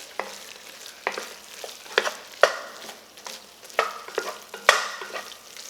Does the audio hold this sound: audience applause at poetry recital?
no